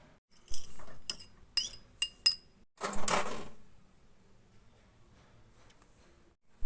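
Parle G biscuit cake batter is stirred with milk in a small bowl, giving a handful of sharp, bright clinks of a utensil against the bowl in quick bursts, then a longer scraping swirl, with quiet gaps between.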